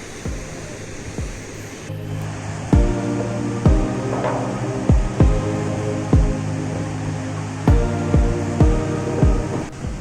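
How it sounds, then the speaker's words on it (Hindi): Bahuti waterfall near Rewa, with roaring water as a constant loud broadband rush, while regular thumping knocks repeat about once a second on top of it. "आप पानी की आवाज़ सुन सकते हैं, कितनी तेज़ आवाज़ आ रही है।"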